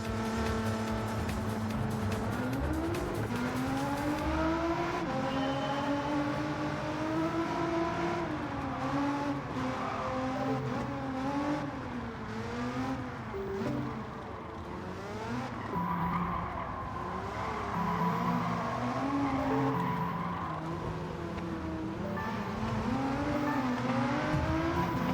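Race cars roar through a racing video game event against a Bugatti, engines revving and shifting continuously with tire squeal and skidding layered over a dense music-like bed, loud and unbroken throughout.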